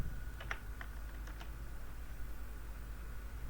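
A password is typed on a computer keyboard, producing a handful of faint, soft key clicks in quick succession over a steady low hum of room noise.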